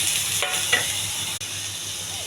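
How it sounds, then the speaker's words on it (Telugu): Tomatoes with onion and green chilli sizzling steadily in a pan with a few scraping stirs of a utensil, close and continuous, no talking. "ఇది బాగా వేగిన తర్వాత టమాటా వేస్తాను"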